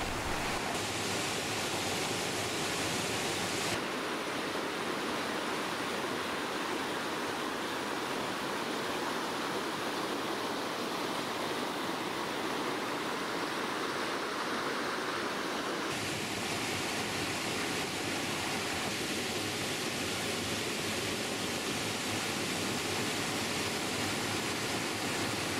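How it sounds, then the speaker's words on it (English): Storfossen waterfall in Geiranger crashes down a mountainside toward the fjord, a loud, dense, unbroken roar of rushing water with no voices. "the river crashes down the mountainside before rushing into the fjord"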